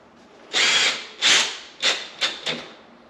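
A power drill driving a screw into drywall for kitchen cabinet blocking, five short whirring bursts of shrinking length, close and fairly loud, separated by brief pauses.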